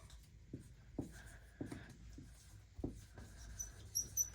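Pen writing on paper while listing the factors of 20 for a fourth-grade math lesson; soft, scattered strokes and taps at an uneven pace, close but fairly quiet, with no talking.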